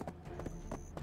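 Horse hooves clip-clop in Black Desert Online, a quick run of soft, evenly spaced thuds, quiet and close, lasting about a second.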